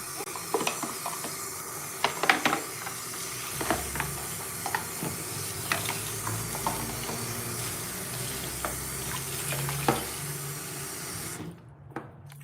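Water runs and splashes into a pan of cooling soap mixture close by, a continuous hissing pour with clinks and stirring knocks, ending abruptly near the end.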